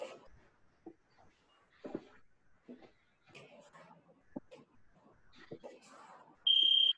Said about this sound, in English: On the buzzer.